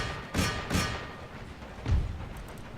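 Cannons fire into infantry lines during a battle in Empire: Total War: three separate, moderately loud booming thuds, two close together and a third after a pause, over faint battlefield background.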